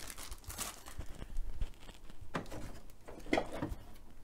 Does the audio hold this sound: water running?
no